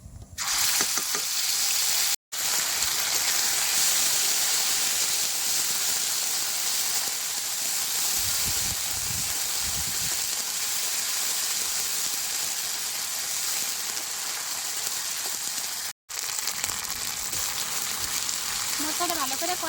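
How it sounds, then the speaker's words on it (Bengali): Ground spice paste hits hot oil with fried cumin seeds, a loud continuous sizzle and hiss close up with two brief dropouts along the way. "জিরাটা ভাজা হয়ে গেছে এবার বাটা মশলাটা দিয়ে দেবো"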